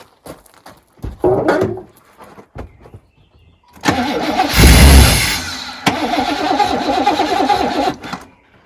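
A car with suspected fuel-injection or fuel-tank trouble cranks and catches on brake cleaner, first brief stuttering cranks, then a loud burst as it fires and revs before settling into a steady rough running.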